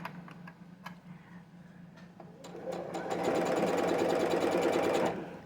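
A home sewing machine used for quilting starts up after a few quiet clicks and knocks, then runs steadily and fairly loud for about two seconds before stopping.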